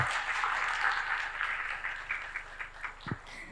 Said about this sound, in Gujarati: ખૂબ તાળીઓના ગલગલાટથી એને વધાવીએ.